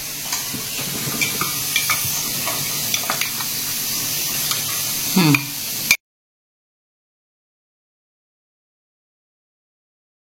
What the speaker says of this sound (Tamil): அந்த பக்கம் டீ கொதிச்சிட்டு இருக்குது.